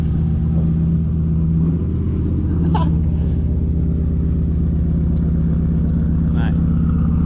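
A 2004 Subaru WRX on an oversized tire setup is driven on a short test drive, its engine droning steadily and close throughout with a slight rise in pitch, a loud continuous cabin rumble with no clear talk.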